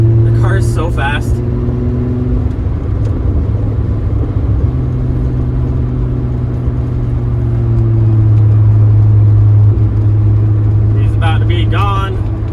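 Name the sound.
Volkswagen VR6 car engine driving on the Autobahn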